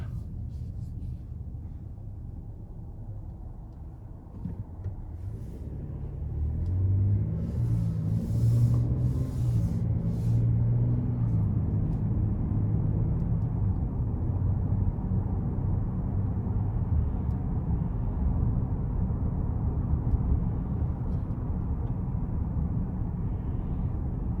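A car cruising in normal drive mode on a road test drive, a steady low rumble of engine and road noise that swells slightly and then holds level throughout, with no talking.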